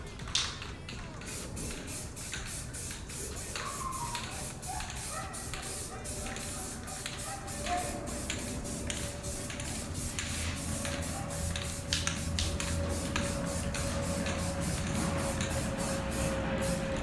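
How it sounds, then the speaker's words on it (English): Short hissing bursts of spray paint on a BMW E36 M3 Pandem widebody kit, repeated in quick spurts with brief pauses between, close by, alongside faint rattling and mechanical creaks. "Going small spots, small spurts of spray."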